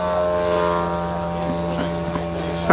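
A 1/3 scale model Spitfire's Zenoah petrol engine running, a loud, steady buzzing drone with a strong harmonic whine held at constant pitch, with a brief louder burst at the very end.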